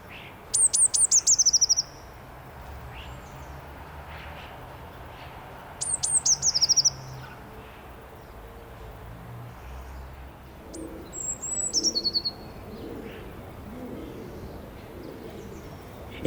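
Blue tits at a garden feeder give three short bursts of high, bright chirping calls spaced several seconds apart, clear over a low outdoor background hum.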